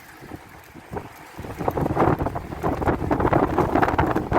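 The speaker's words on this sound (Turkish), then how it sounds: "çok fena rüzgar var" Strong wind buffets the microphone, starting quieter then surging into loud, rumbling gusts that keep pounding without a break.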